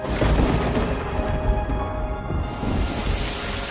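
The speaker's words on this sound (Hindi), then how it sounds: "अरे देखो, बारिश शुरू हो गई।" Steady, heavy rain pouring down, a dense wash of noise with a low rumble underneath, continuous and fairly loud.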